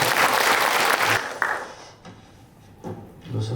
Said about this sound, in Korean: 이분들께 다시 한번 큰 박수 부탁드립니다